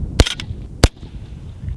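A Ruger Mini 14 rifle fired with Hornady 73 grain match ammunition: two sharp, loud, close shots about half a second apart, each a crisp crack with a brief tail.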